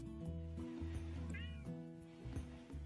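A cat meows repeatedly at close range in drawn-out, wavering calls, over a steady low background tone.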